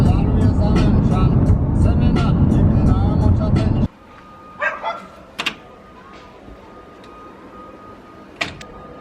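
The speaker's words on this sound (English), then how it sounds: "told me it's his new dog" A friend's new dog barks close by at a beach over loud wind and a person talking, then the noise drops away and a few sharp, sparse barks follow in quieter surroundings.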